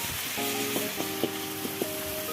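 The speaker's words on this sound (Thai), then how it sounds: "ตามด้วยพริกแกงเผ็ด 1 ช้อนโต๊ะครึ่งนะครับพี่ แหม เราจะค่อยๆผัดไปนะครับ" A spoonful and a half of red curry paste fries in a little oil over medium-low heat, giving a soft, steady sizzle with light scrapes and taps of a utensil stirring the pan.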